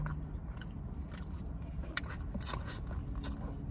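Someone eats Chinese shrimp and broccoli up close, with soft bites, crunches and quiet chewing sounds over a low background and no speech.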